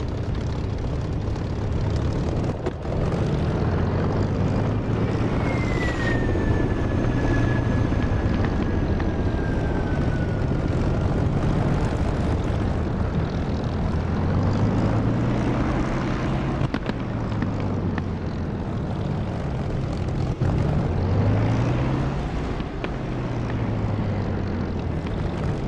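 An aircraft engine in the DCS flight simulator game drones steadily as the plane taxis off the runway, with a constant loud hum whose tones slowly rise and fall throughout.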